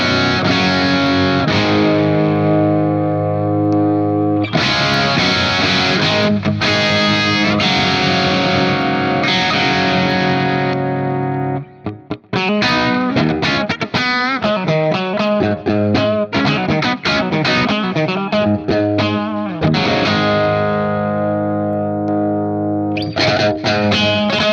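A modded Marshall JCM 800 guitar amp plays distorted electric guitar at lower gain, sustained chords and riffs with a brief gap midway, loud and close with no talking.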